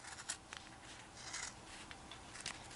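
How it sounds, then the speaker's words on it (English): Scissors trimming a yarn pom pom for a bunny craft, giving quiet, soft snips and brushing rubs in a loose irregular rhythm, close up and faint. "Now I'm going to trim it again."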